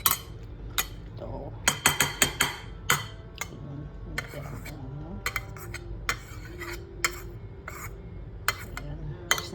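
A spoon clinks and scrapes against a bowl while macaroni vegetable salad with mayonnaise is mixed, giving irregular sharp taps over soft stirring, fairly close and quiet.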